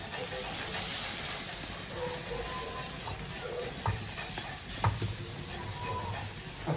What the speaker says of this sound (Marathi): जो आपण 1 वाटी चिरलेला गूळ आहे तो टाकतो, बघू शकता, आणि छान परत मिक्स करतो